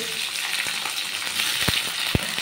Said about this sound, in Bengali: তো চলো পেঁয়াজটা ভাজা হোক।